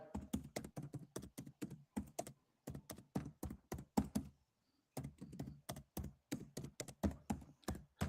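Steady bursts of keystrokes on a computer keyboard, close and fairly loud, typed in quick runs with a short pause midway before resuming.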